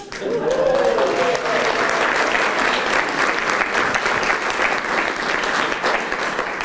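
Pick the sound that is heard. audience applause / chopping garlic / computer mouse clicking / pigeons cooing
audience applause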